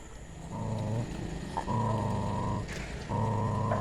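A mother dog growls at her puppies at a cremation ground in Rishikesh, making a close, low, rumbling growl in three sustained bursts with brief breaks between them.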